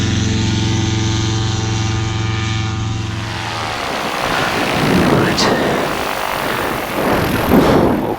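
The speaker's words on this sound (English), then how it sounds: "we have Mark Hawes SSDR motor glider with the engine started." Engine of an SSDR motor glider running on the ground after being started, its propeller giving a steady harmonic drone that thins into broadband whooshing washing past, loud and close.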